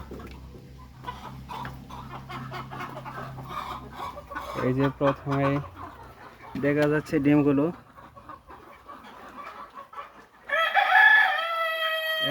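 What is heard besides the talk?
chickens clucking on a farm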